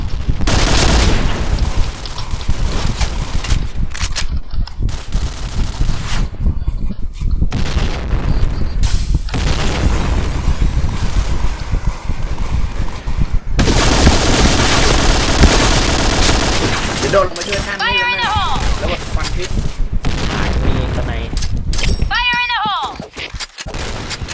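Dense, continuous gunfire and booming grenade explosions in the video game Point Blank fill the scene, loud and relentless, with a voice shouting briefly amid the clatter.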